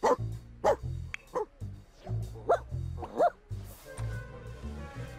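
A dog in The Sims video game barks in a quick series of sharp, close yips and woofs at an uneven rhythm, with faint game background sound between the barks.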